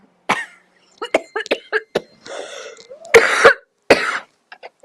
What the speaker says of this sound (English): I'm sick of coughing